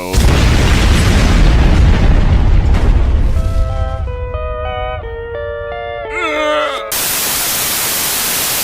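An atomic bomb test explosion in the film Oppenheimer opens with a massive, roaring broadband rumble that decays into sustained orchestral tones, then a sudden loud wash of noise cuts in near the end.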